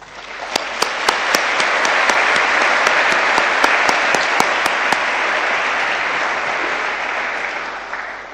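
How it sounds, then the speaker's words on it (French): An audience at a speech to young people gives sustained, dense applause, the clapping rising quickly and holding loud and steady for several seconds with a few sharp individual claps standing out. "Et surtout, nos applaudissements."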